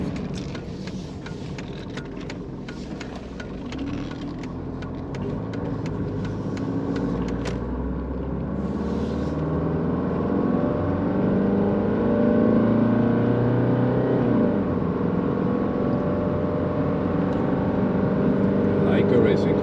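An oldtimer car's engine builds steadily under acceleration, a continuous low rumble rising in pitch and loudness over the drive, heard from inside the cabin.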